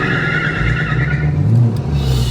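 A car spins its tires in place to warm them up, with a loud, steady engine roar and a squealing, skidding tone running through the whole burst up close.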